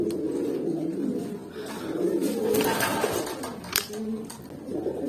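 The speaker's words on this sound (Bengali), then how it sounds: "আর একটা ঝুমা কবুতর ছেড়ে দেই" Jhuma pigeons cooing after release, low soft coos repeating through the clip alongside rustling and a few sharper bird calls, fairly close.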